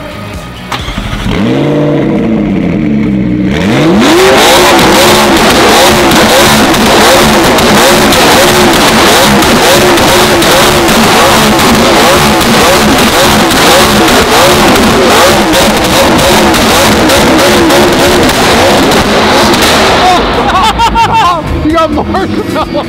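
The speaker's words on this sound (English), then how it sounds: "Can you cook with a McLaren exhaust?" A McLaren with a straight-pipe top-mount exhaust that shoots flames revs hard and loud for about twenty seconds, its roaring engine rising and holding near, while voices chatter underneath.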